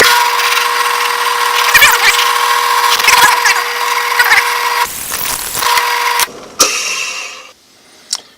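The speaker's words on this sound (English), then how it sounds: "Okay, now I'm ready to drill this." A power drill whines steadily at close range for several seconds while drilling through a tablet stylus pen kit piece, its tone dipping as it bites in, then spins down and stops.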